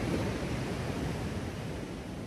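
Black Sea waves breaking on the shore at Adler, heard as a steady, full roar of surf with wind noise, continuous and fairly loud, no voices.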